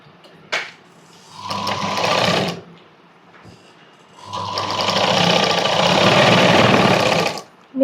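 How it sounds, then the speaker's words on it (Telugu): Sewing machine running in two bursts, a short run then a longer steady whir, while stitching a baby frock for a one- to two-year-old; loud and close with no talk. "ఇక్కడ ఫస్ట్ క్రాస్ కుట్టుకోవాలి"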